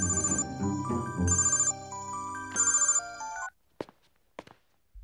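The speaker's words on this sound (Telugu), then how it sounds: "ఆ సూర్యగడికి ఫోన్ చేయి" A phone ringtone plays a bright repeating melody in bursts, then stops, followed by a few soft knocks and handling sounds.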